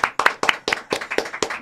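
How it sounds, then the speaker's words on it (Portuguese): A studio audience claps for a guest at a Brazilian talk show, a few close, sharp hand claps in a quick, fairly even rhythm over less than two seconds. "Senhoras e senhores, então, um aplauso, primeiro convidado"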